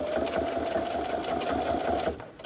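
A sewing machine back stitches over a zipper on a boxy bag, its motor whirring steadily and close for about two seconds before stopping abruptly.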